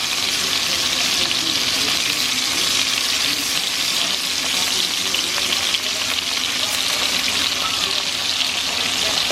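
Chicken pieces browning in a frying pan give off a steady, continuous sizzle and crackle of hot oil, with faint stirring and scraping mixed in and little else around it.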